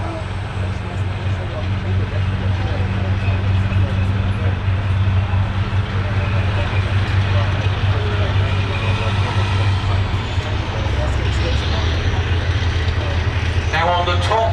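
A Cold War heavy tank driving around an arena at a tank show, a loud continuous low engine rumble and track drone that holds steady throughout, with crowd and commentary noise mixed in.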